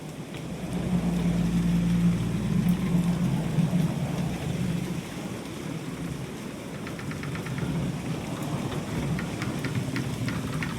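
A video-game storm fills the scene with steady, heavy rain and a deep continuous rumble of thunder, loud and unbroken throughout, with no talking.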